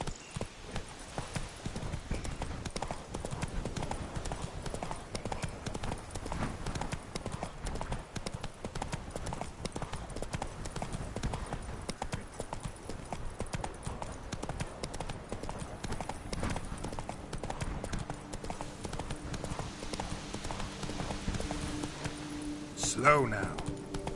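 Hooves of the horse Roach clip-clop at a steady galloping rhythm in The Witcher 3 video game, continuous and close throughout, with a brief louder knock near the end.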